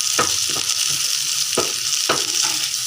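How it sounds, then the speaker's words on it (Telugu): Bitter gourd pieces fry with browned onions in a hot pan, a steady close sizzle broken by several sharp scraping strokes as a spoon stirs them through. "కాకరకాయ ముక్కలు వేసుకొని ఇలా కలుపుకుందాం."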